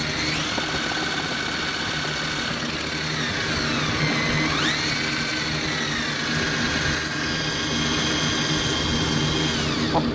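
A power drill runs steadily and loudly up close, with its whining pitch sliding down and back up as the speed changes partway through, and no one speaks.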